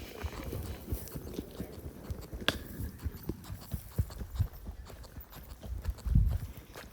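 Horses on a horse safari walk with a steady clip-clop of hooves, soft and somewhat distant over low outdoor rumble, with one louder thump near the end.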